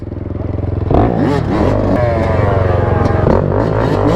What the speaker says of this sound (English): The quad, it's so quiet.